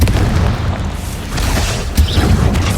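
Bombarda and Confringo spells explode in the Hogwarts Legacy game, heavy booming blasts rolling one into another, loud and close.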